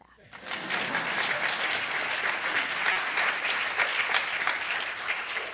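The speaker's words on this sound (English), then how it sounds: "You can clap for that." Audience applause at a high school education event, steady and loud, rising quickly after a brief quiet start and sustained for several seconds with dense clapping throughout.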